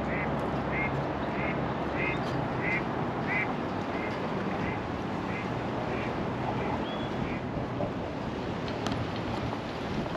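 Ducks quack in a short regular series of calls on a lake at Lake Havasu, Arizona, fairly faint beneath strong wind rumble and water noise.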